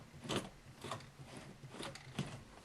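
Sewing machine stitching along the edge of a T-shirt being made into a dress, the needle swinging side to side in a zigzag; a steady mechanical whir with soft rhythmic clacks, close and moderately quiet.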